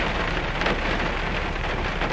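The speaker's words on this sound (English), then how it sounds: "And it's pouring." Heavy rain pours down outdoors, a dense, loud, continuous hiss of drops striking surfaces with no voices.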